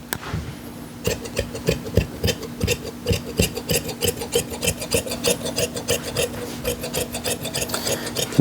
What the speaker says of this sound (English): And now I'm just going to trim off all of this excess canvas because we don't need all this excess now.